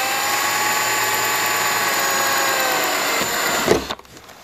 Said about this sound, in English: And then I can slowly start to drill into the plastic.